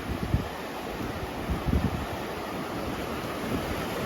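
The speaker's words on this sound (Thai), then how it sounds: "เสียงทะเล เสียงน้ำทะเลพัด" Sea waves wash and roll onto the beach at Cha-am, Thailand, in a steady roar, with gusty wind buffeting the microphone and no voices.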